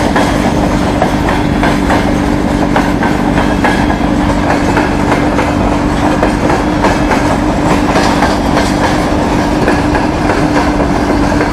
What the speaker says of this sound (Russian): Да, длинный поезд, конечно.